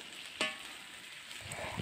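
Chicken pieces stirred into fried spice paste in a wok for sour chicken soup: a faint, steady sizzle with one sharp scraping clink early on and soft stirring shuffles near the end.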